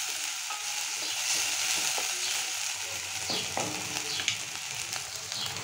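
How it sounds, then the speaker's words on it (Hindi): Potatoes fry in a small amount of very hot oil, a continuous close sizzle with occasional stirring scrapes and clicks against the pan. "देखो बटाटा दे दिया, अभी बटाटा अच्छे से फ्राई हो जाएगा"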